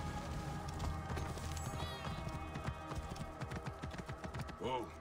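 Horse hooves clopping in a quick rhythmic gait in the video game Assassin's Creed Origins, with a brief whinny near the end and faint game sounds around it.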